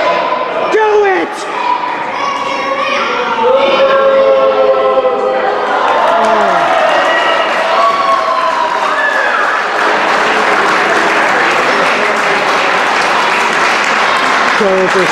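Loud wrestling crowd at a New Wave Pro show, with sustained cheering and applause filling the space while voices chant and shout over it, building steadily as the noise swells into a dense roar.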